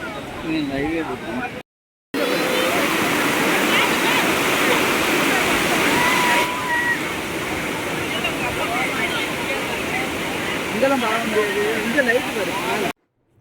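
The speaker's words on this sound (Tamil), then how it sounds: "தண்ணி எவ்வளோ விழுதுன்னு பாருங்க" A heavy waterfall at Courtallam, thick with a crowd, roars loud and continuous at close range, cut by a brief gap, while voices talk over it.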